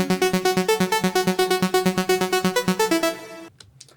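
Mort preset from the Serum synth plays a bright Future Rave lead at around 126 to 128 BPM, a fast steady run of short, evenly pulsed notes that stops abruptly, leaving a brief quiet tail.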